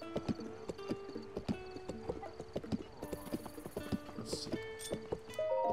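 Horse hooves clip-clop steadily in the video game Zelda: Breath of the Wild, a rhythmic run of close hoofbeats with a few brief whinnies and game chimes near the end.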